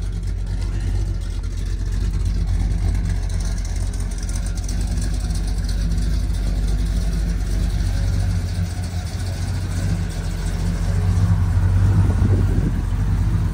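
A low-mileage 1977 Chevy C10 pickup idles while warming up, its engine a steady, unbroken low rumble heard close by and alone for the whole stretch.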